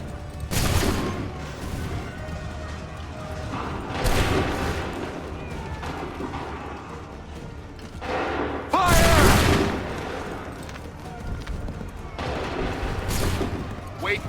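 Musket volleys ring out in Assassin's Creed 3 Remastered, several loud, booming bursts spaced a few seconds apart amid battlefield noise, with commands shouted between the shots.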